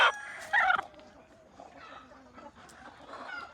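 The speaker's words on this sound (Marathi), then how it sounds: "हे कोंबडा जरी आपण धरला तरी पण समोरचा कोंबडा त्याला मारण्यासाठी येऊ शकतो" A desi country rooster being held by hand gives a few short clucks and squawks, loudest at the start, then fainter fowl noises amid low background sound.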